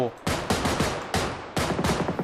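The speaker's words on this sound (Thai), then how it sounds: "นั่นไงนั่นไงมันกำลังยิงกันละ มันกำลังยิงกันละ" Rapid bursts of gunfire in the battle-royale video game PUBG Lite, several loud clusters of repeated shots in quick succession, with faint talk underneath.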